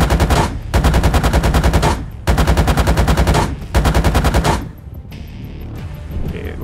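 Tank machine gun fire and high-explosive rounds in the PC tank game Gunner HEAT PC, four loud, rapid sustained bursts of automatic fire separated by short pauses, then a quieter tail.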